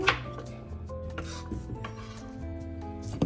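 Knife chopping chicken on a board for adobo, a run of firm, close, steady chops with a few louder knocks against the board and a faint clatter of kitchen utensils.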